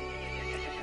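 A horse in the video game Resident Evil Village lets out a single brief whinny, a loud, close, tonal neigh lasting under a second.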